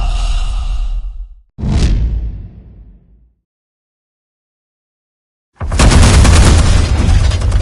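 A burst of explosives detonating in the Batman Telltale video game: one loud blast with a decaying rumble, then silence, followed by a second sustained roaring burst near the end.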